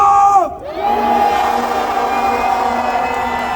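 Large outdoor political rally crowd bellowing a loud, sustained collective shout on cue, rising after a brief amplified voice and holding steady for several seconds.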